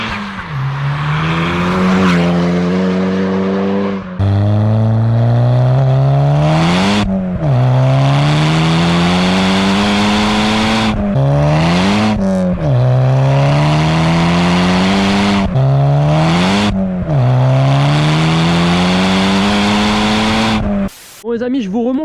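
A 500 horsepower VW Polo engine revs hard again and again, each loud rise climbing then cutting off sharply, close and dominating, with occasional pops and crackles between pulls.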